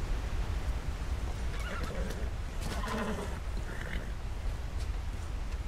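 A horse in the open world of Red Dead Redemption 2 lets out a whinny over a continuous bed of ambient game noise, the neigh rising midway and fading out.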